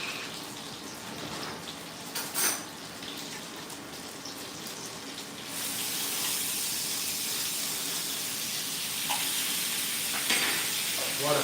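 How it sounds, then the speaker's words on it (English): Salmon sizzling in a hot pan on a hot plate, a continuous crackling hiss that grows louder and denser partway through, with occasional small pops, fairly close and with no talking. "What a sizzle."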